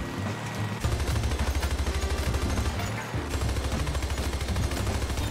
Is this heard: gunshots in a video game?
yes